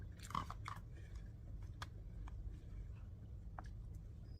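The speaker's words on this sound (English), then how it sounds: "She basically swallowed that after 5 minuscule chews." A woman chews a piece of chicken in close, quiet, soft wet bites, with a few sharper crunches near the start and a steady low background hum underneath.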